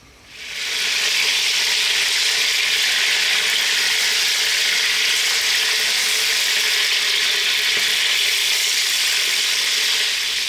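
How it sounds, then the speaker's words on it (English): Pieces of beef brisket sear in a pan over medium heat, giving a steady, loud, dense sizzle that holds evenly throughout with no talking. "we want to cook these for about 4 minutes aside on a kind of medium heat"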